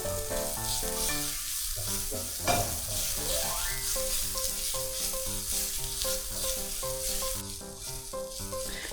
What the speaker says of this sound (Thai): เราใส่กระเทียมสับลงไปครับแล้วก็ตามด้วยพริกครับ